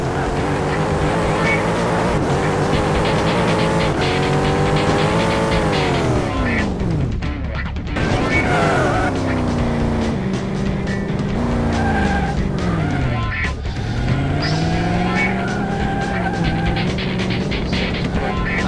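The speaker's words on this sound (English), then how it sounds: "This is a muscle car, not a sports car." A muscle car in the Top Gear Stunt School video game roars as its engine revs up and down in sweeping pitches, with tires skidding and squealing loudly and continuously throughout.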